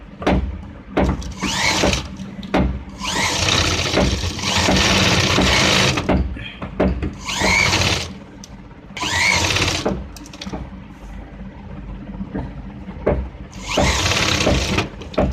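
Sewing machine stitching a second seam along a patti-style blouse neckline, running in several loud mechanical bursts of rapid clatter separated by short pauses, fairly close.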